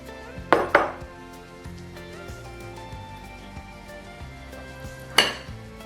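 Spinach for a mushroom Wellington filling goes into a pan: two sharp clatters of utensil on pan at the start and another near the end, with soft stirring and quiet sizzle between.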